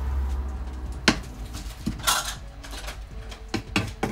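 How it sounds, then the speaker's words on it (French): Garlic and onion being cut on a board, a handful of sharp, separate knife knocks and clatters with quiet pauses between them, close by. "je vais couper l'ail"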